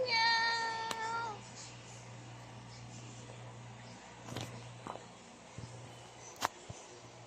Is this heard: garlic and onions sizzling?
no